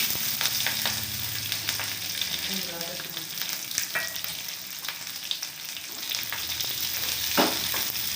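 Onion, green chilli, curry leaves, cumin and mustard seeds frying in hot oil for a breakfast dish, a steady close sizzle with scattered pops and the occasional scrape of a spoon, with no voices.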